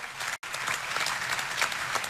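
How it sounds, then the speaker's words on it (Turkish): Audience applause at a televised Turkish show finale, a dense steady patter of many hands clapping throughout, with one abrupt split-second dropout near the start. "Star TV'ye bir kocaman alkış gönderelim"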